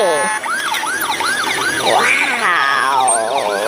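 A toy ambulance siren wails close by in a rapid repeating whoop, then shifts into a longer rising and falling tone.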